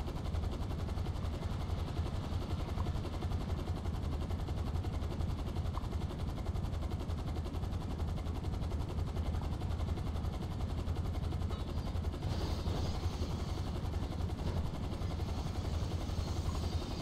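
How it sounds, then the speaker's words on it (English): A helicopter in the video game GTA V flies with a constant, loud rotor and engine roar that holds steady throughout, with no talk over it. "It's not easy to handle this helicopter."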